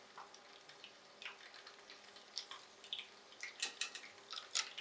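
Shrimp deep-frying in oil, a quiet steady sizzle with irregular crackles and pops that grow busier and louder toward the end.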